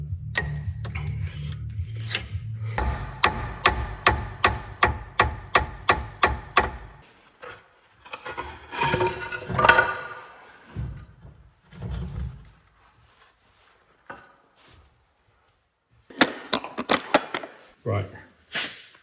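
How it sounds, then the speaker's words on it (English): Rapid series of close metallic knocks and clunks as a bar pries up a suspension part on a VW T5 van, about a dozen evenly spaced strikes followed by scraping and a few later clanks, with a low voice early on. "so I'm just going to prise that up"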